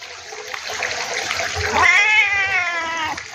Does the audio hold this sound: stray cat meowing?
yes